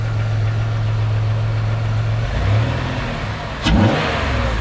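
A car engine fitted with a bigger throttle body, idling with a low steady hum, then a quick throttle blip revving up and falling back, loud and close.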